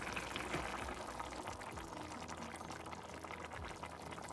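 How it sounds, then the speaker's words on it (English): Half a cup of coconut milk is poured into a simmering shrimp curry, a soft continuous liquid pour and bubbling that stays even and fairly quiet throughout, with no voices. "now we'll be adding our coconut milk"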